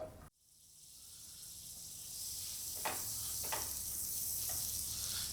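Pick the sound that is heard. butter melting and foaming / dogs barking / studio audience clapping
butter melting and foaming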